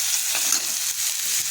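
Tomato and cabbage fry in a pan for cabbage Manchurian, crackling with a close, even sizzle and quick stirring clicks of a spoon, with no talking.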